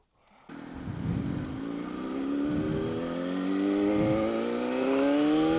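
A Kawasaki Ninja ZX-6R sport motorcycle starts riding off down the road, its engine rising steadily in pitch through repeated gear pulls. The engine is close and continuous after an abrupt start, and no one speaks.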